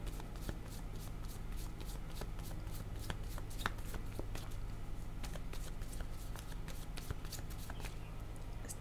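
Tarot cards being shuffled by hand in a quiet room, a steady stream of soft riffling flicks and taps repeating close up throughout, with no talking.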